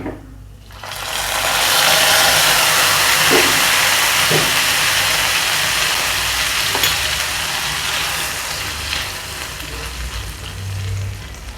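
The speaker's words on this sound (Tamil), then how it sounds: "இப்போ இதை பாயாசத்தில் ஊற்றிடலாம்." Roasted vermicelli and almonds tipped into a pan of milk payasam, setting off a loud, steady sizzle and steamy hiss that swells after a quiet first second and holds, with a few faint clinks of stirring.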